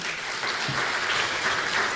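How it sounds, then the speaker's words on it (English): Loud, dense applause from a conference audience at an insurance event by the lake in Malawi, a continuous wash of many clapping hands sustained throughout. "A round of applause for him"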